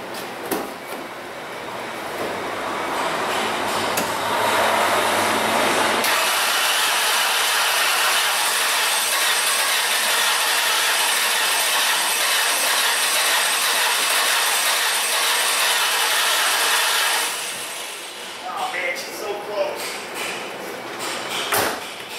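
Ford Escape engine cranking without starting: a long, steady, loud churning of the starter that builds, holds for about ten seconds, then winds down into a few clunks.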